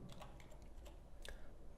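Faint, quick keystrokes on a computer keyboard tap in an uneven run of soft clicks, with no talk over them.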